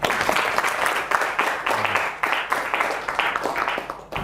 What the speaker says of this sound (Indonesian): Beri aplaus untuk adik Tasya.